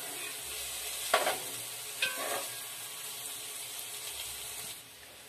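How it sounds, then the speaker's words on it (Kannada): Paneer frying in a pan, a steady broadband sizzle holding throughout with a couple of brief stirring scrapes, close and moderately loud with no talking. "ನಾನು ಪನ್ನೀರ್ ಒಂದು ಸ್ವಲ್ಪ ಫ್ರೈ ಮಾಡ್ಕೊಳ್ತಾ ಇದ್ದೀನಿ."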